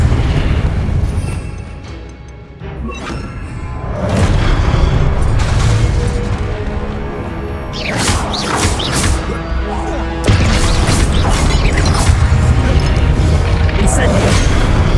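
Confringo blasting spell explosions in the Hogwarts Legacy video game, a dense run of loud booming blasts and crashing impacts over continuous combat noise, with a voice calling out between hits.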